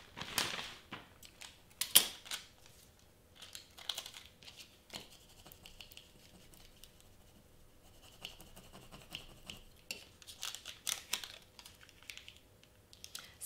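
Scissors cut a piece of purple glitter transfer tape, faint close snips and scratchy rustles in irregular bursts over a quiet background.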